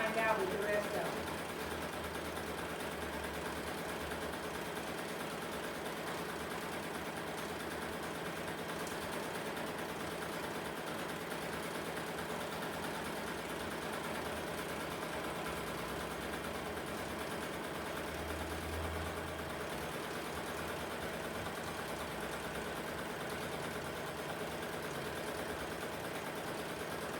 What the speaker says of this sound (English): So we're gonna let this one stitch out and then I'll find out with the rest of it.